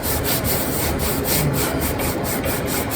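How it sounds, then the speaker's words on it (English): Honda D16Y7 pistons, in an engine from a 1997 Civic, are wiped down with a rag and brake cleaner, making quick, even rubbing strokes that repeat at a steady rhythm, close and alone. "And wipe them down real good so there's just not a bunch of carpet on them."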